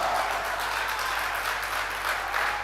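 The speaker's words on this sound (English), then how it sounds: "You can imagine the clapping in the background." Sustained applause from a crowd at a men's international pool open in Spain, steady and fairly loud, a dense wash of clapping with no voices.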